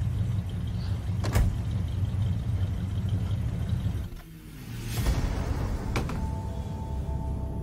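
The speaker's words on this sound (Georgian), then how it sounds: "ძრავი არ გამორთო" A car engine idling in a film scene gives a steady low rumble throughout, with a couple of sharp clicks and a brief door or window movement on top.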